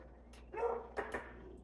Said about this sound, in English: the neighborhood dogs are talking